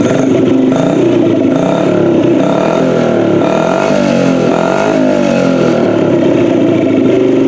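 A small Honda CRF50 dirt bike engine runs continuously at close range, its pitch rising and falling as the throttle is blipped and revved.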